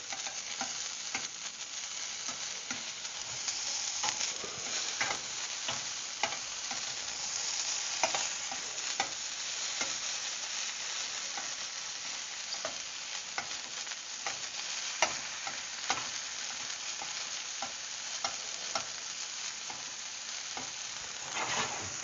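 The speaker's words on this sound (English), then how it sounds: "you're cooking only mushroom for any other dish, you can season right away over the pan" Mushrooms fry in a hot pan, a steady dense sizzle running throughout with repeated scraping clicks of stirring, close and fairly loud, with no talking.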